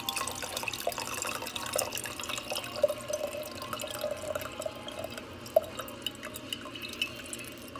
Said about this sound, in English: I'm just going to drain the petals in the water into the jar